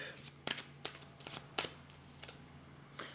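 Tarot cards being shuffled and laid down on a table during a reading, heard as several close, sharp riffles and soft slaps spaced irregularly over about three seconds, with a faint background hum.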